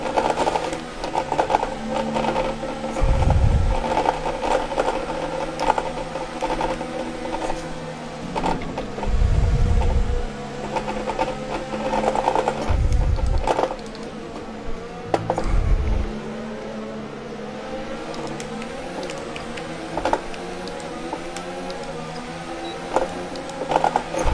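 Formula 1 car engine in the F1 2019 racing game, a continuous high-revving drone with rising and falling pitch through gear changes, punctuated by several deep low thumps, loud and steady throughout.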